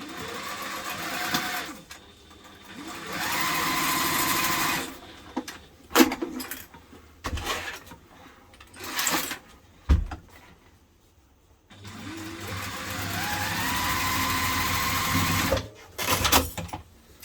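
A sewing machine stitching quilting cotton for a bag runs in steady loud whirring bursts, stopping and restarting, with clicks and handling knocks between runs.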